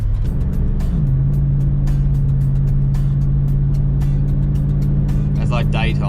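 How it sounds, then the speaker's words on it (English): A V8 car drives along a road at night, its engine a steady, loud low drone that runs throughout, with a faint voice in the background. "The sound of that V8's so good"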